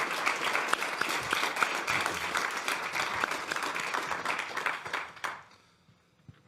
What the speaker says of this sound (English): you also heard from the warm applause